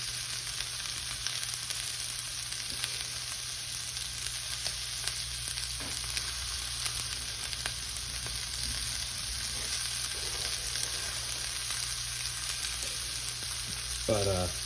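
Flat iron steak frying in butter in a hot cast iron skillet, a continuous soft sizzle under a steady background hum with faint shifting crackle throughout, no talking.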